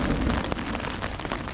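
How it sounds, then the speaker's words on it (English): Rain falls on a campsite as a thunderstorm eases, a dense, steady patter of drops hitting surfaces close by with no talk. "it's mostly petered off into just a light drizzle."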